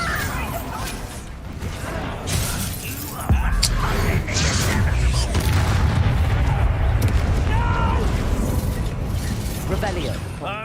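A Bombarda blasting spell detonates during a Hogwarts Legacy duel, a sudden loud boom about three seconds in that leaves a sustained rumbling roar with crashing debris layered over game music and effects.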